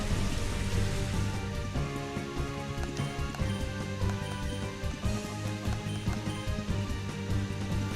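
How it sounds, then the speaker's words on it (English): The Rain Dance move from the Pokémon XD game brings a steady, dense hiss of rain with a low musical drone beneath, soft and continuous without pause. "Kinger uses Rain Dance, which is going to work very well for me"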